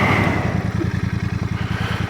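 A Royal Enfield 650 Bear twin-cylinder motorcycle pulling away, its engine throbbing in a close, steady rapid pulse, loud and alone with no voices.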